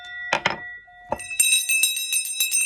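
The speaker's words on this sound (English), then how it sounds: "Bells are important." A bell rings close by: a few sharp metallic strikes, then a brighter run of rapid, ringing dings that hold a sustained shimmering tone.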